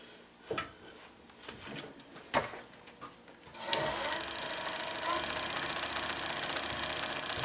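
A wood lathe spinning up to 900 rpm for bowl hollowing: sharp tool knocks at first, then a steady loud whirring drone takes over and holds with no voice present.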